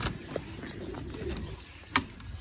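Pigeons coo softly at a distance in their coop, a few low, faint calls over quiet background noise.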